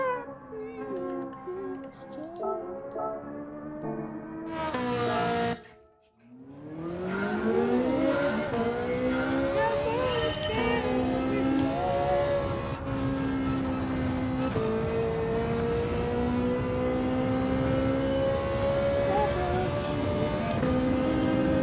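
A Ferrari race car in Gran Turismo 7 revs hard and accelerates, its engine note climbing steadily in pitch and holding loud and continuous for many seconds, with no talking.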